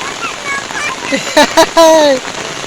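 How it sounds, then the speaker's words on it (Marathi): Steady rain hisses throughout in a forest, with a few short, loud voices calling out over it near the end. "पाऊस आला रे पाऊस"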